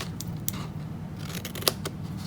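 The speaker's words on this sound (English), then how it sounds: "I'm going to miter cut that as well." Scissors miter-cutting a paper piece for the top of a handmade box, a handful of small, crisp snips in quick succession, close and fairly quiet, with no talking.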